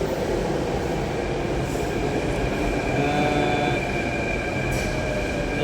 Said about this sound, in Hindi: हमारी मेट्रो आ चुकी है, ये देखिए